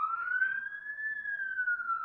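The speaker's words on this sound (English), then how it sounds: "if I don't talk, the sirens don't pick up" A police car siren wails steadily in a single long, slowly rising and falling tone, heard at moderate distance with no talk over it.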